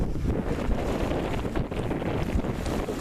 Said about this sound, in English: The wind's holding up about 8 knots.